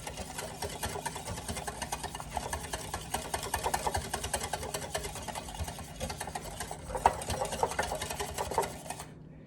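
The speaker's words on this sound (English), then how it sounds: "So much whisking." A dessert mixture is whisked by hand in a bowl, giving a steady, fast, even scraping rattle that runs close and moderately quiet for about nine seconds, with a slightly louder burst near the end; no one talks.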